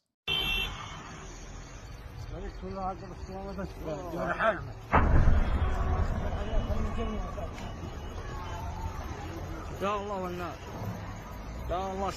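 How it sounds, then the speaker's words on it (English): A large explosion at night in Yemen, captured in news footage: a sudden loud blast booms midway through, leaving a heavy sustained rumble over steady background noise and faint voices. "something big blew up over here"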